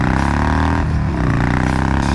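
A Harley-Davidson bagger motorcycle engine idles close by, a loud, deep, lumpy rumble with a rhythmic throb that lifts briefly as the throttle is blipped, then settles back.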